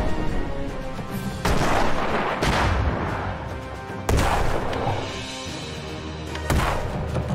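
Cannon fire and explosions from an airship battle in the game Airships: Conquer the Skies, with loud booming blasts at roughly 1.5, 4 and 6.5 seconds over a continuous rumbling din of gunfire.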